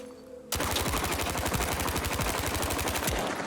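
Rapid automatic weapon fire in Battlefield 5 erupts after a quiet moment, loud rhythmic bursts of closely spaced shots continuing for several seconds before tapering slightly.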